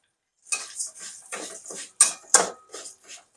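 Green chillies and moth beans sautéed in a pan, heard as a handful of separate metallic scrapes and clinks of a spoon stirring, close and sharp with silent gaps between strokes.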